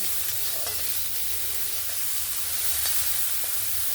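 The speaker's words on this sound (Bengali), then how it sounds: "পেঁয়াজ রসুন টমেটোটা যতক্ষণ ভাজা হচ্ছে" Onion, garlic and tomato fry in a pan with a steady, fairly quiet sizzle, broken by faint occasional stirring clicks and no voices.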